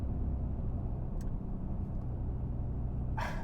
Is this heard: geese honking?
no